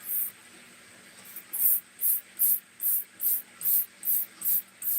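A trigger spray bottle squirts cleaner onto spotted carpet in about ten crisp, evenly spaced hissing bursts, close and loud with no talk.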